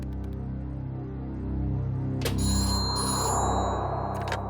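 A telephone rings after a number is dialed in a crime drama scene: a quiet lead-in, then a bright electronic ringtone starts midway and keeps sounding, close and clear, with no talking.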